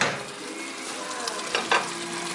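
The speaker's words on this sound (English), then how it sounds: "So give the mincemeat a little stir." Mincemeat for a traditional Greek pastitsio fries in a pan with a steady close sizzle, broken by a couple of soft scraping stirs near the end, with no voices.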